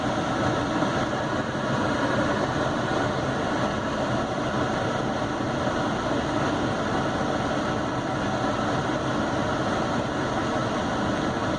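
A Chevrolet Beat sits idling with its automatic climate control set to the lowest temperature and the AC compressor running, a steady low engine drone and fan hum heard from inside the car.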